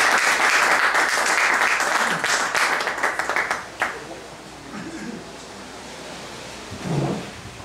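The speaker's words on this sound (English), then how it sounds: "if you could put a round of applause together for David Michaels" Audience applause for David Michaels, principal of White Rock Christian Academy, fills a hall loudly and steadily for about four seconds, then fades to scattered claps and murmurs.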